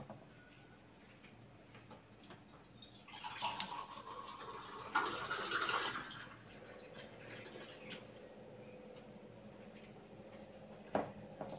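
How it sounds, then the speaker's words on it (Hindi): A glass of water poured into simmering chole gravy in a home kitchen gives a few seconds of soft splashing and gurgling over a low background hiss, then quieter bubbling. "मैं इसमें 1 ग्लास पानी और डालने जा रही हूँ।"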